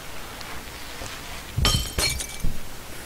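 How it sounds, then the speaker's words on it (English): Glass shatters in the video game Happy Wheels: two sharp breaking crashes land close together, then a smaller clink follows, over a quiet game background. "Glass break."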